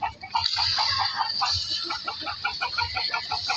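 A rooster on a Filipino backyard farm gives steady clucking calls in a close, continuous run with no one speaking over it.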